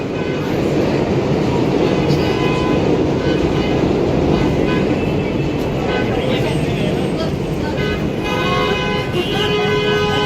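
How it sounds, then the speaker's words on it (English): Car horns honk amid dense New York City street traffic near Times Square, with a steady roar of traffic and crowd noise underneath and a subway train rumbling nearby; someone talks over the din. "Oh, the horns. You hear that?"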